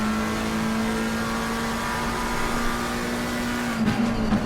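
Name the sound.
race car onboard lap at Imola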